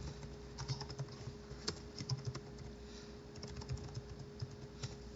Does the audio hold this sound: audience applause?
no